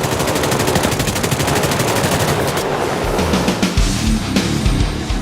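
Grumman F7F Tigercat in War Thunder firing its four 20mm cannons and four 12.7mm machine guns: a loud, continuous rapid-fire stream of cannon and machine-gun bursts lasting the whole stretch, close and dense with no talk.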